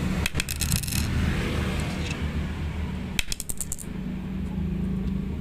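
Fake N52 neodymium magnet dropped and clattering, two short bursts of bright metallic clinks, one near the start and another about three seconds later, over a steady background hum.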